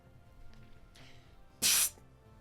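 A voice imitates a Squirtle's water spray with a single loud, breathy hiss lasting about a third of a second, standing out sharply above quiet background murmur.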